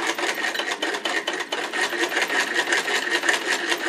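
Singer 99 sewing machine turned by a hand crank, stitching in a steady, rapid mechanical chatter with faint rubbing and rasping, continuous and close throughout.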